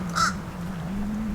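Crows caw briefly near a park pond where ducks and other birds gather, a single harsh call early on over a steady low hum of background noise.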